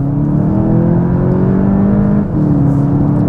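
A 2022 Volkswagen Jetta GLI pulls hard under acceleration, its engine note loud and sustained with rising harmonics, briefly dipping around a gear change before climbing again, close and steady with no talk.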